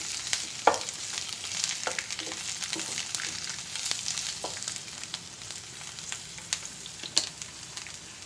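Ginger and four long slit green chillies sizzle in hot oil for potato 65, a steady frying hiss punctuated by frequent sharp clicks and scrapes as a spoon stirs them.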